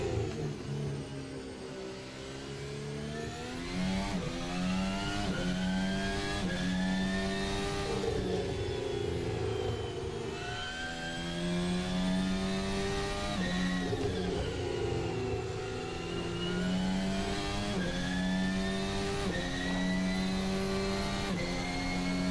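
Formula 1 car engine in Assetto Corsa, a high-pitched screaming whine rising and falling through repeated upshifts and downshifts, loud and steady throughout.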